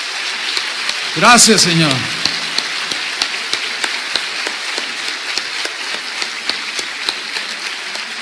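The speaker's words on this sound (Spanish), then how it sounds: "Dale un aplauso al Señor, hermano." A church congregation applauds with a sustained, moderately loud patter of clapping, preceded by a brief spoken phrase from a man at the start.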